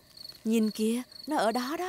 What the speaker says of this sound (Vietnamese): Đó là tiếng kêu của những chú dế đó con.